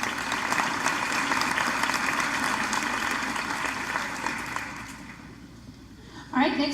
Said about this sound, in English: Let's give these gentlemen and ladies a round of applause.